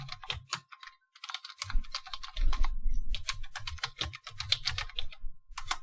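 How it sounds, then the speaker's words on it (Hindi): Fingers tap out keystrokes on a computer keyboard in typing tutor software, close crisp clicks in quick uneven runs with brief pauses, while a low background hum rises and falls beneath them. "तो अभी मैं कुछ टाइप करता हूं"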